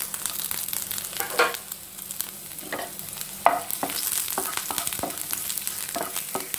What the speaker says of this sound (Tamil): ஆயில் நல்லா சூடாகிடுச்சு. இப்போ நம்ம நறுக்கி வச்சுருக்கிற இந்த இஞ்சி பூண்டு இதை வந்து நம்ம போட்டுடலாம்.